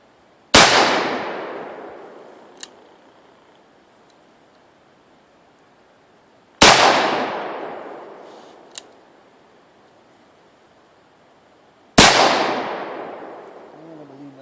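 Three loud, sharp shots from a Remington 1858 black powder revolver, each followed by a long fading echo, spaced several seconds apart and carrying a faint click after each of the first two.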